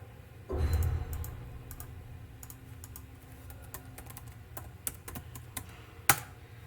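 Typing on a computer keyboard during a web security exercise, with a thump at the start, then scattered, moderately loud key taps in uneven bursts and a sharp final keystroke near the end.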